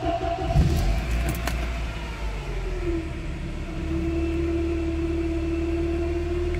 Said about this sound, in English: This is as you start the engine.